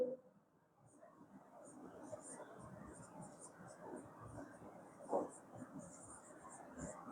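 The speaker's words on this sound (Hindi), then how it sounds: "मैं ऐसे लिख देता हूं इसके टाइप।" Pen or marker writing out a list on a board during a class lesson, a faint steady scratching with small strokes and one brief louder tap, close and quiet.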